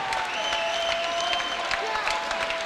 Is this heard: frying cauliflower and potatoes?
no